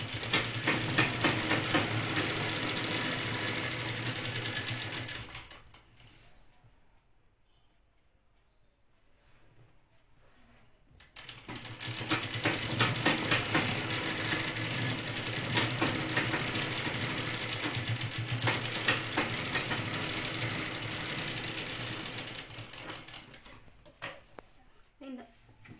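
A sewing machine runs top stitching along a chudidar top in two long continuous bursts, broken by a pause of several seconds with faint handling noise, with a steady mechanical whir throughout.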